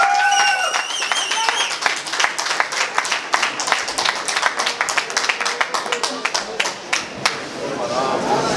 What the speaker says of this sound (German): Großen Applaus für Dennis Rabova